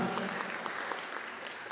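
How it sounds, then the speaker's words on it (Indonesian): An audience at a press conference claps, producing a brief burst of dense, moderately distant applause that fades slightly toward the end. "Tepuk tangan dulu dong teman-teman."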